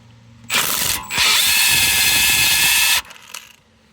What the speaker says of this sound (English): Yes, it's a 16 mm, so we can use our gun to open this up.